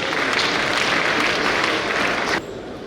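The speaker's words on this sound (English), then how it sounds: "Please, a resounding round of applause for a celebration of a legacy well handed down." A symposium audience applauds in a hall, a dense, loud burst of many hands clapping together that cuts off abruptly near the end and leaves quieter room noise.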